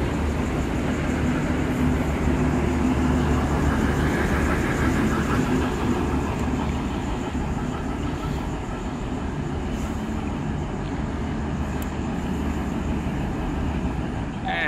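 A Melbourne suburban electric train, VL-class set, pulls away from a platform at Footscray station, making a steady continuous rumble and hum that stays loud and constant throughout, with a faint whine on top.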